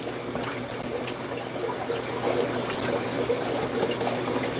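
Half a liter of water poured steadily into a container of microworm culture, a continuous close hiss and trickle that holds evenly for several seconds with no pauses.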